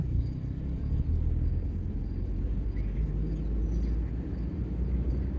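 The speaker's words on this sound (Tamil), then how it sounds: "ரேஸ் கொடுங்க" A car engine revs and accelerates during a driving lesson, a steady loud low rumble from inside the vehicle that holds throughout without pause.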